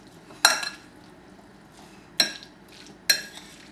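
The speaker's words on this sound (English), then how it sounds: "Now we're going to mix all of these wonderful ingredients up." Mango chutney ingredients are stirred in a bowl with a utensil, giving three separate sharp scraping clinks spaced a second or so apart over a quiet background.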